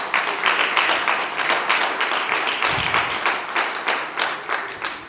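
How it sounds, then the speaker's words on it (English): An audience at a Juneteenth Nevada community gathering in Las Vegas breaks into steady applause, a dense, sustained clapping that stays fairly even throughout. "So please give yourselves a big round of applause."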